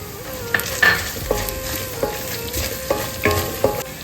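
Fennel seeds sizzling in a hot pan for a chickpea roast, with a spoon stirring and scraping in short repeated strokes over a soft steady frying hiss, close by, no voices.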